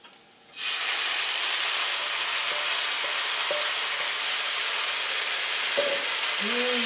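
After a brief quiet start, a loud steady sizzle of tomatoes frying with garlic in a hot pan, with a few faint clinks of a utensil.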